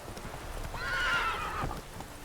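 A horse in The Witcher 3 gives a loud, clear whinny lasting about a second, with faint hoof clip-clop before and after it.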